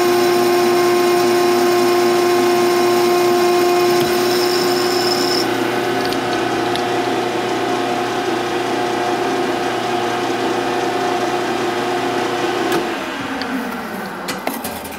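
A metal lathe turns an eccentric part for a toolpost grinder, giving a steady close machining hum with cutting noise from stringy chips, shifting tone near the end as the cut winds down.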